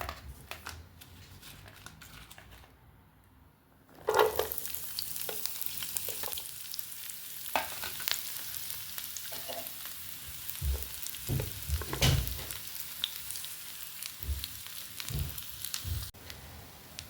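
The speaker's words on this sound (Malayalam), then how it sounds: "അതിനകത്തേക്ക് ഞാൻ ഉള്ളി ഇതേപോലെ അരിഞ്ഞത് ഒരു 10 ഉള്ളിയും 3-4 ഉണക്കമുളകും കൂടി അതിനകത്തേക്ക് ആഡ് ചെയ്യാണ്." Sliced shallots and dried red chillies dropped into hot oil for a tempering, a sudden burst of close sizzling that keeps crackling with stirring and spoon scrapes, after a few quiet seconds.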